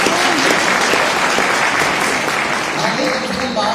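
An audience of about 300 people claps loudly and steadily throughout, with dense, continuous applause filling the space and voices audible underneath.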